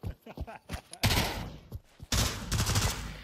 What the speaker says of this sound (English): What are you guys shooting?